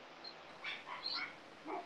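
A loose dog indoors gives a few faint, distant yips and whimpery barks in short bursts against a quiet room.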